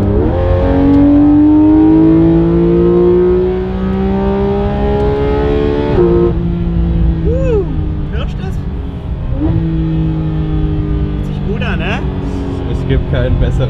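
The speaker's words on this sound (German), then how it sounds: "Ja, hört ihr das? GT3 RS, das hört sich an, innen drin wie ein Supersportwagen" A Porsche GT3 RS with an Akrapovic exhaust runs loud and close, its engine note climbing in long revving pulls with gear changes between them, heard from inside the car with occasional voices over it.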